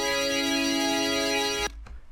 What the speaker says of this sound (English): So this sound is a sound from, is it Cymatics? Yeah, Cymatics Future Bass, and it's called Butterfly 1